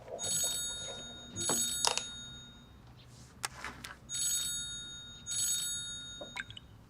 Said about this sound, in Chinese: 刚才秀妍院长来电话了